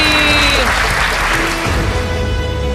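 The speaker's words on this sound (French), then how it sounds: "Messieurs, dames, je vous demande d'applaudir le dernier sosie." Loud, dense crowd applause at a lookalike show, a continuous wash of clapping from a large audience with a hum of voices and a faint tone running underneath, sustained for a few seconds.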